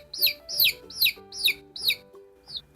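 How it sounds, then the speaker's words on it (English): A chick gives a string of about six short, evenly spaced high peeping clucks, close and clear, against faint low background noise. "I hear a chick."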